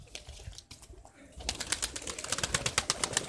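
Pigeons, including young birds, flutter and coo nearby in a burst of rapid wingbeats and rustling, with repeated soft calls over a steady outdoor background.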